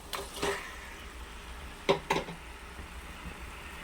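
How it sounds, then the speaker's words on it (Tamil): Marinated chicken is tipped into a pan and stirred, with a few scraping, clattering strokes of a spoon against the pan over a low sizzle, close by and without talk. "ஊற வச்சிருந்த சிக்கனை கொட்டிக்கலாம்."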